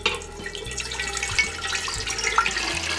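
Tap water running steadily into a pot, about six cups being filled for boiling, a continuous splashing gush heard close with no talk.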